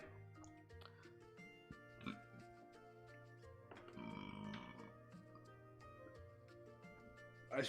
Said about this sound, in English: I really should not belch on stream